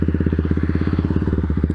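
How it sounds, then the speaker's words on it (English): A Kawasaki Z125 motorcycle engine idles steadily after its computer recall update, running around 2000 RPM in a fast, even pulsing putter that stays close and fairly loud throughout, with no talking. "It looks like it's supposed to idle now at like 1700 RPMs, which right now mine is saying 2000"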